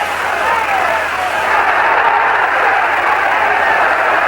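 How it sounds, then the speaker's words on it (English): A large boxing arena crowd at the Alexis Arguello vs Alfredo Escalera fight roars steadily throughout, a continuous wash of cheering and applause with no breaks, loud and enveloping. "The crowd is alive."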